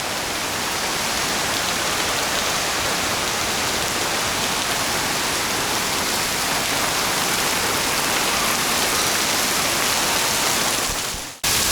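Heavy rain pours down steadily on a Singapore city street, a loud, dense, unbroken roar of water hitting surfaces that holds constant throughout and cuts off abruptly at the end.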